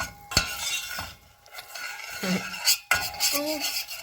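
Flour being stirred and roasted in a pot for tomato soup, with metal spoon scrapes and clinks against the pot over a faint sizzle, close and intermittent, no talking.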